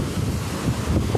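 Stormy sea waves and strong wind on the Jafrabad shore in Gujarat make a steady, continuous roar, with gusts buffeting the microphone throughout.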